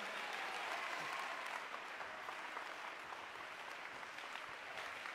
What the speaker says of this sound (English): Somebody clap your hands to God tonight.